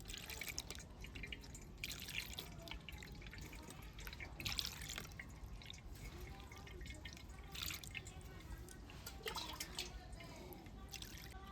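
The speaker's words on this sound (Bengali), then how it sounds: "ছানাটা সুতির কাপড়ে নিয়ে নেওয়ার পর এবার ঠান্ডা জল দিয়ে খুব ভালোভাবে ছানাটাকে ধুয়ে নেব।" Cold water runs over milk curd (chhana) held in a cotton cloth while it is rinsed for rasgulla made from powdered milk, giving a steady trickle with scattered drips and splashes throughout.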